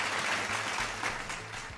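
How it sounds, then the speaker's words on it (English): Brief applause from a quiz show audience during the grand final of a televised Fit India quiz in Jammu and Kashmir, a steady, moderately loud wash of clapping that fades slightly toward the end. "Clap for yourself."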